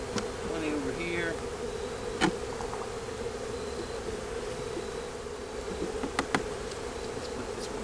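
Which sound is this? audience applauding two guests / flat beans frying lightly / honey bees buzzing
honey bees buzzing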